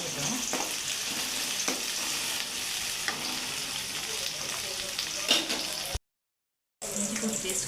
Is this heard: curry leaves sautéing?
yes